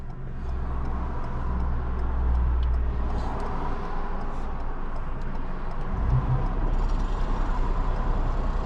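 A car driven by a learner driver with L plates, heard from inside as a steady, close engine hum and road rumble that continues without talk throughout.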